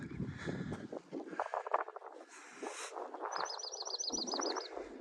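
Small birds along the Appalachian Trail give a quick run of rapid, evenly spaced chirps, faint and somewhat distant over soft outdoor background noise, with no one talking.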